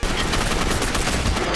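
Rapid, dense machine gun fire from the video game Gotham City Impostors rattles continuously and loudly throughout, a sustained close barrage with no pauses.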